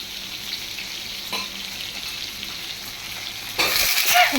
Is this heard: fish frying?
yes